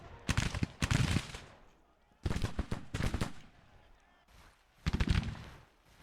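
Musket volleys ring out in the Grand Tactician Civil War strategy game, with Federal and Confederate infantry trading fire in four loud, crackling bursts separated by short pauses.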